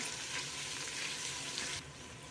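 Coriander and mint leaves sauté in hot oil in a pan for chicken biryani, a steady close sizzle with faint stirring that drops to a quieter hiss near the end.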